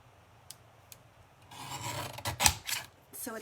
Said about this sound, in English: I do have this super cute little mini trimmer here. And so I'm going to try to cut this real thin.